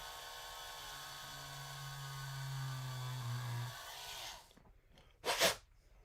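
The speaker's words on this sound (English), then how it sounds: "So let's go ahead and drill a hole here." A power drill boring a hole into a workpiece, a steady whine lasting several seconds before cutting off, followed by a brief burst of noise.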